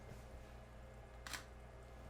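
Sony a6000 mirrorless camera firing its shutter once, a short crisp click near the end of the clip over a steady background hum.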